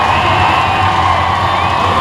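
A stadium crowd cheers and shouts at a Marietta Renegade 2021 competition event, steady and loud throughout with whoops over the dense roar.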